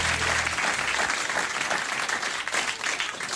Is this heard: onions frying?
no